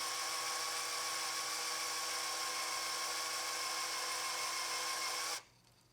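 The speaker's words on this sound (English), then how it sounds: "you use a drill press. This creates a straight hole." Drill press boring a straight hole through metal with cutting lube, a steady high-pitched whine with a bright tonal ring sustained at even loudness, then cutting off abruptly near the end.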